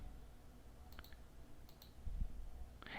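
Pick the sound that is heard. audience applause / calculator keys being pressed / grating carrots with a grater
calculator keys being pressed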